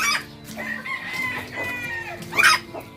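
Brooding native hen making low clucks and throaty murmurs up close, with a louder squawk near the end, no talk.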